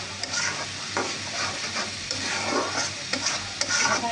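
Spoon scraping and stirring through a chili mixture frying in a pan, steady sizzle underneath with periodic scrapes against the pan bottom, close and clear with no speech.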